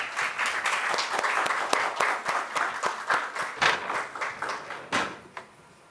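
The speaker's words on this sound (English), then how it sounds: "Can we have another huge round of applause," Conference audience applauding at a rural youth skills session in India, a dense, close burst of many hands clapping that thins and fades out toward the end.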